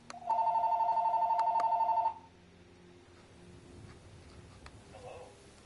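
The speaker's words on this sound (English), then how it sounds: "Sounds like I have a phone call." A telephone rings in one loud, steady electronic trill lasting about two seconds, then stops, leaving quiet room background with faint ticks.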